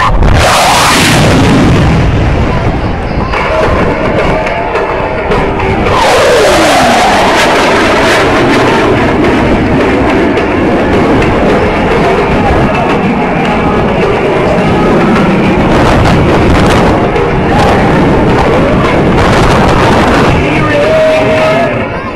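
Blue Angels jet aircraft roar past at an air show, loud sweeping engine noise with rising and falling passes over a continuous crowd-and-wind wash, with an announcer's voice partly heard beneath.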